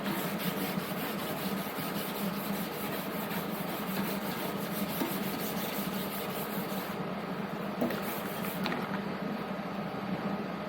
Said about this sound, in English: when we're blocking, the idea is to get all the guide coat off. Keeping the block flat.